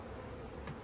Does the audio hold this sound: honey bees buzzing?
yes